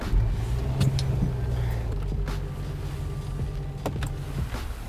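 A BMW F10 sedan starts up with a short cranking whir at the outset, then settles into a low, steady idle rumble heard from inside the cabin, with faint clicks and interior sounds over it.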